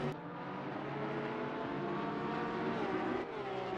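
Race cars lapping Imola in Assetto Corsa Competizione, including an Audi and a Lamborghini, make a steady loud engine drone throughout, with a continuous close roar and little variation.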